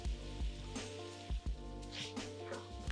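Onions, carrots and celery sizzle in olive oil in a soup pot, a steady close crackle with a few louder spits and pops throughout.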